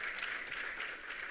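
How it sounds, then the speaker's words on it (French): Applause from an audience at an international conference on age-friendly communities as a participant stands up, a steady, moderately quiet wash of clapping with no break throughout. "Elle se lève et elle est applaudie"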